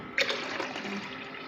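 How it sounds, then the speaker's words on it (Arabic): A cup of water poured into crepe batter in a home kitchen: a short close splash that starts abruptly, then settles into a softer steady liquid pour. "هنحط كوبايه الميه اهي"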